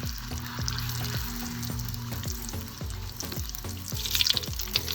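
Bhaturas drop into very hot oil and fry with a vigorous, crackling sizzle, punctuated by rhythmic thumps of background music and a brief bubbling surge near the end.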